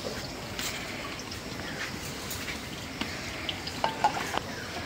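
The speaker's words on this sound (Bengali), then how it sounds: "মাছ ভাজা দিলেই আর একটু তেল দেই," Fish frying in hot oil in a pan, with steady sizzling and occasional clinks and scrapes of stirring in a home kitchen, no voices.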